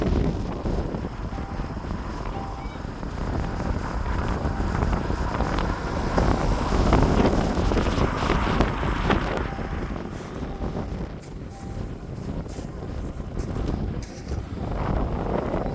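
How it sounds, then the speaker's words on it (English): Strong wind on Horseshoe Pass in Wales in winter buffeting the microphone, a continuous low roaring rumble that swells and eases for the whole stretch, with no voices. "It's just too windy."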